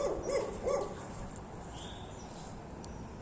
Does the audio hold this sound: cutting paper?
no